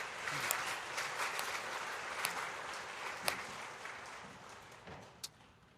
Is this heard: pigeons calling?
no